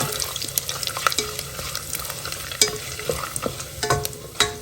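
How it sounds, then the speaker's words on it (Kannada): Whole nutmeg, mace, bay leaf, cashews and fennel seeds sizzle steadily in hot oil in a pan, with frequent sharp clicks and scrapes as a utensil stirs them. "ಜಾಯ್ಕಾಯಿ ಪತ್ರೆ ಪಲಾವ್ ಎಲೆ ಹಾಗೆ ಗೋಡಂಬಿ ಸೊಂಪು ಎಲ್ಲ ಸ್ವಲ್ಪ ಹುರ್ಕೊಳ್ಳೋಣ"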